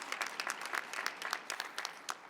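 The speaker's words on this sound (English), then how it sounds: "Clap as many times as you want." A commencement audience at a nursing school graduation breaks into applause, a dense, fairly quiet patter of many hands with a few sharper claps poking through, steady for a couple of seconds.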